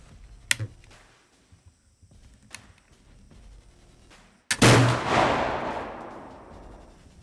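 A single loud rifle shot cracks out at an outdoor target range and its echo trails off, after a few faint clicks and handling sounds.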